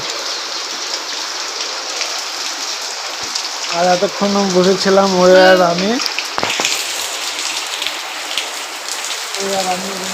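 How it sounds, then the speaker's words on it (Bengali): Heavy rain pours down in a dense, loud, continuous hiss of drops hitting surfaces. A person talks over it in the middle and again near the end. "আর দেখো সেই লেভেলের বৃষ্টি"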